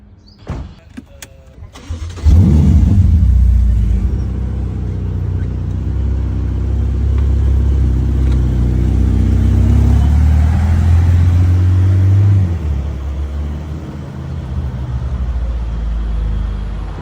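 Luxury car such as a Ferrari or Mercedes in a parking lot, its engine starting with a few sharp clicks and then a loud, steady low rumble that rises slightly before easing back, close and without talk.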